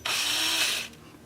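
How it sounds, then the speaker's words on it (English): A short, loud burst of a Sandoflex power sander whirring against turned wood, cutting off after about a second. "I'm going to start the sanding with my Sandoflex."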